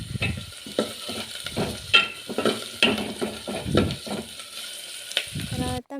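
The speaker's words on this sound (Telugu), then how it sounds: "అలాగే కరివేపాకు కూడా కొంచెం వేసుకొని బాగా ఫ్రై అవనిచ్చి" Onions and curry leaves fry in a pan under a continuous sizzle, with a spoon stirring in repeated scraping strokes close by.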